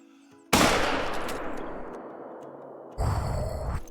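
A loud gunshot fired at a running bear in the hunting game Call of the Wild cracks sharply and rolls into a long fading echo, followed by a second burst of noise near the end.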